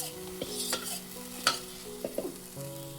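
Rice flour dough for akki happala is stirred in a pan over a low flame: soft, quiet scraping and sticky stirring strokes come at intervals over a faint steady background hum.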